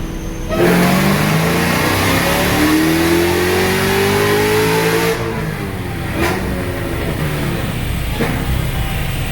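A Dodge Hellcat fitted with a 426 Hemi screams through a hard dyno pull, its revs climbing steadily for several seconds before cutting off into a lower idle with a few brief blips, loud and close with no talk.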